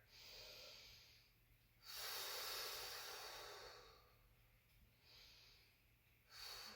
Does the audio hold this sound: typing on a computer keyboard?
no